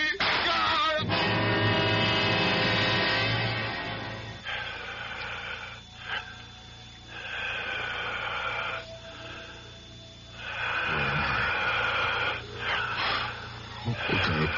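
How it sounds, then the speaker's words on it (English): Eerie rhythmic breathing fills a room, slow heavy wheezing inhales and exhales with rasping, snoring-like texture, loud and close, repeating in long swells across the whole stretch. "It sounds like the whole room is breathing."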